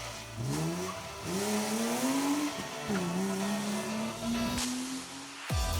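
A historic-class BMW rally car on a stage of the 2019 PokerStars Rally, its engine revving hard through rising gear changes, loud and close as it accelerates past, with brief tyre scrabble.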